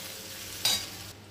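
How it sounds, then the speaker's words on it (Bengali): Chopped onion with green chillies fries in oil, a brief soft hiss that flares up sharply midway and then settles back down. "পেঁয়াজটা কুচিয়ে লাল লাল করে ভেজে নিচ্ছি"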